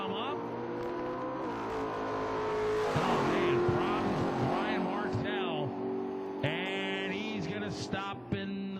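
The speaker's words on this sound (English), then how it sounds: "Brian, the RPMs come up" An engine revs up at a drag racing event while an announcer talks over the track speakers, the motor's pitch climbing and holding in a loud, sustained, fairly distant drone.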